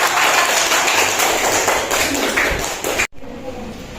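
Classroom applause from pupils during a teaching session, a loud, continuous rattle of many small hands clapping for about three seconds before cutting off abruptly into quiet room noise.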